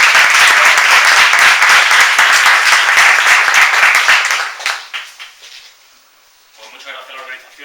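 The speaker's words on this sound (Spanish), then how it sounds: "Venga, un aplauso fuerte para ellos." A conference audience gives dense, loud applause for the presenters of a talk on near-death experiences. It is sustained for about four seconds, then tapers into scattered claps and falls silent, followed by faint voices.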